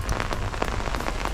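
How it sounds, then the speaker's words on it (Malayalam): Heavy rain pours down, making a dense, constant, close patter of drops with no voices. "ഫുള്ള് മഴയാണ്."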